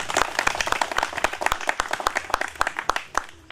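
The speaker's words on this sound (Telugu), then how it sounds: "దానికి అందరూ చప్పట్లు కొట్టండి." A crowd at an Ambedkar Jayanti celebration applauds, dense overlapping hand claps ringing out close and lively for several seconds before tapering off.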